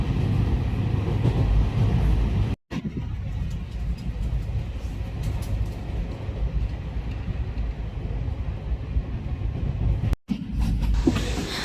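Steady low rumble and rattling of a moving overnight passenger train carriage, continuous throughout with two brief dropouts, no clear speech.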